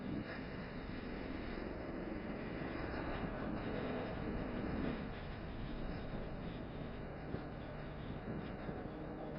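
A helicopter climbs into a stall turn at an air show flying display, heard as a steady, broad rumbling roar at middle distance with no clear rotor beat. The roar stays constant throughout.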